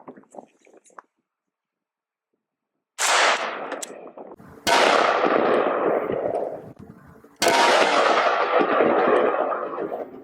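7.62 rifle rounds from a 16-inch barrel strike an AR500 steel body armor plate outdoors: three loud, sharp shots with ringing decay, spaced a couple of seconds apart after a quiet start.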